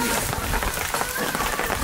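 Rain falling on Mount Patuha during a hike, a dense steady patter of drops on surfaces, fairly close and even, with faint voices in the background.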